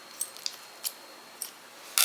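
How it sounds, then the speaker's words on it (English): Scissors snipping the corner off a plastic piping bag filled for deviled eggs, a few small crisp clicks and snips spaced apart, close and quiet against a hushed background. "Get your scissors"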